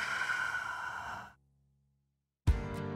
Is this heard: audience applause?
no